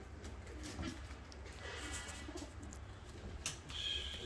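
A flock of fancy and costume pigeons coos softly and steadily, close by, over low background noise.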